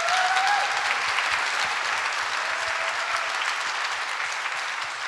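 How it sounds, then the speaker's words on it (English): An audience claps for students at an academic event on media, a dense, steady round of applause from a room full of people that slowly tapers toward the end. "So just another round of applause to them."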